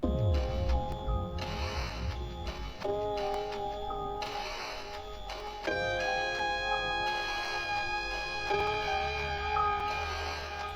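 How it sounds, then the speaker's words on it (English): A halftime-stretched sample of an instrumental from a trap lofi remix of a song, with drawn-out synth chords shifting every couple of seconds and bright tones entering midway, steady and alone. "And I stretch it out to make it halftime."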